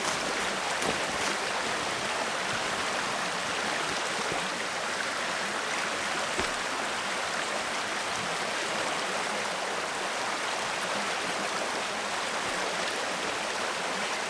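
A creek rushes steadily through snowy woods in winter, making a continuous broad hiss of flowing water with no voices.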